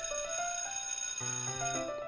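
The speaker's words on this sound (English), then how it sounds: "Oh, that's an American school bell. That's not a Japanese school bell. The bell rings and all the students leave the classroom." An American-style electronic school bell rings in the video game Doki Doki Outcast, a steady multi-tone chime sustained over a soft game-music background, fairly loud and with no voices.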